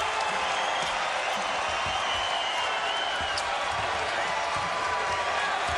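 A basketball crowd at the 2017 Big South Championship final, Campbell vs Winthrop, applauds and cheers for the Winthrop Eagles, a dense, steady roar of clapping and voices under a commentator's talk.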